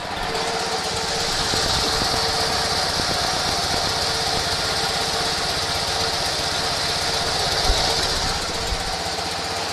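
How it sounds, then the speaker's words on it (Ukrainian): A Ural M-72 motorcycle engine idles steadily after carburettor adjustment, a close, even, continuous running tone with no change in revs across the whole stretch. "Двигун стабільно працює на холостих обертах"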